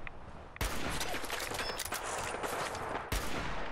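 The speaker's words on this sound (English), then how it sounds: "Someone's shooting at us." Sustained, dense gunfire in Fallout 4 during a firefight at the Harbor Grand Hotel, loud and continuous with rapid overlapping shots and sharp bursts at the start and near the end.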